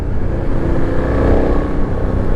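Benelli 752S motorcycle engine running with its exhaust droning loud and close, a continuous throaty rumble holding steady throughout the short stretch, no voices over it.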